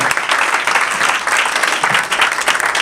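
A church congregation bursts into loud, dense applause and acclaim, a close, sustained wash of many hands clapping together without pause.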